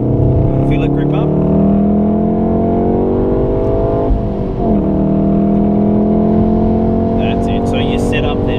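A Golf R accelerates hard at full throttle on a racetrack at Wakefield, the engine note rising steadily in a loud sustained drone with a brief dip midway, and an instructor's voice talks over it.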